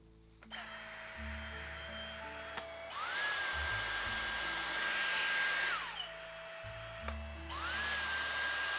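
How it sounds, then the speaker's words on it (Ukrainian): A Dyson Airstrait hair styler blows a strong, steady airflow with a high whine, switching between settings as the pitch and intensity jump up and down. "поток повітря миттєво стане набагато сильнішим і більш інтенсивним"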